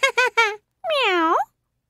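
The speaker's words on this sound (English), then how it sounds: "Meow." A cat gives three short meows in quick succession, then a pause and one longer, drawn-out meow, close and clear with nothing else audible.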